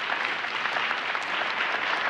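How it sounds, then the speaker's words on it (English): Big audience applause at a forum on vocational excellence, a continuous bright patter of many hands clapping, fairly distant and even in level, with no speech over it. "Big applause."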